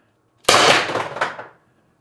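A single sharp report from a Byrna LE launcher firing a 4.6g LLB round, loud and close, with a bright burst that decays over about a second in an otherwise quiet setting.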